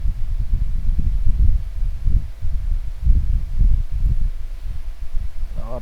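An electric fan runs in a room, a low, steady whooshing hum with a gentle pulsing throb that stays fairly loud throughout with no voices.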